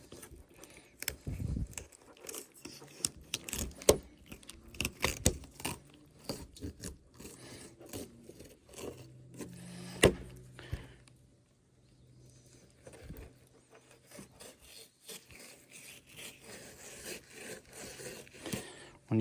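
A knife cuts straight down through a trout while it is being cleaned, giving close, intermittent scraping and crunching strokes with short pauses between them and no talking.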